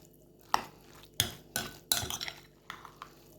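Rice filling mixed with canned fish is stirred in a bowl, the spoon scraping and clinking against the sides in four or five distinct bursts, close and fairly quiet.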